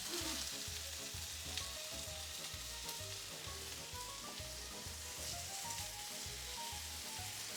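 Tomato burgers fry in a cast iron pan, a steady loud sizzle running throughout, with repeated low scraping and clunking as a pair of spatulas lift and turn the patties.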